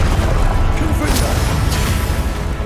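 Confringo blasting curse from the Hogwarts Legacy video game: deep booming blasts with a couple of sharp crackling hits, dense low rumble carried under game voices and spell shouts.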